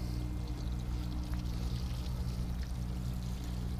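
Full-strength compost tea pours steadily onto a garden bed, a continuous close splashing wash with no break and no voices.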